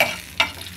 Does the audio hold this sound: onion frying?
yes